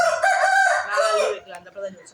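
A chicken at a house crows loudly and close by in one long drawn-out call, then gives a few shorter, softer clucks as it fades.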